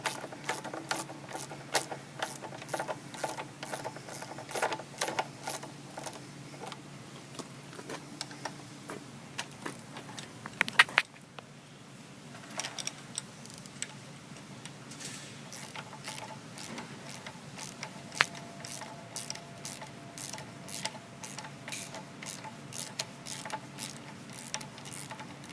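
Ratchet wrench tightening bolts on the attachment pins of a machine: steady rapid mechanical clicking, close and continuous, with a brief pause midway before the clicking resumes.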